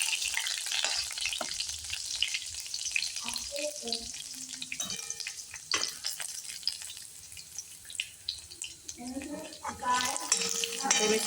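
Garlic, chilli powder and curry leaves fry in a hot pan while being stirred, a steady sizzle with scraping spoon strokes and some clinks, fairly close, with a tap briefly running in the background.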